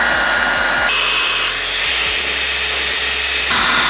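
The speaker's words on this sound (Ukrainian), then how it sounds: "Тобто можемо почути, що робота у даного фену не є такою і дуже голосною." A Profinstrument LS-1600W hot air welding gun for PVC membrane and plastic blows with a steady, fairly loud whooshing hum, its pitch shifting slightly a couple of times.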